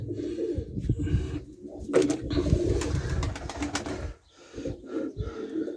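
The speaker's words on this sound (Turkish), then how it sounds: "Bir iki tane daha güvercin var." Pigeons coo nearby in soft, throaty bursts, with wing flutters and faint background noise.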